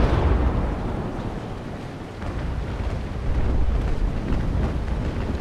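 Ship cannon fire in the naval combat game Naval Action, a continuous rumbling barrage of booms over wind and sea noise, loud and sustained with no clear breaks.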